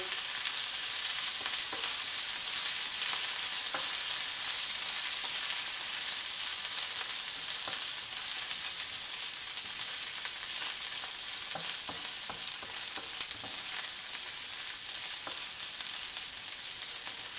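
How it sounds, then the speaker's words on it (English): Minced garlic fries in a pan for a Sri Lankan cashew nut curry, a dense, even sizzle that carries on steadily and loudly, close up, with faint stirring clicks and no talking. "We're just going to let that fry."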